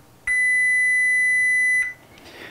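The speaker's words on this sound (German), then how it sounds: "ein Piepton." A multimeter's continuity tester gives one steady, high electronic beep lasting about a second and a half, close and clear over a quiet room.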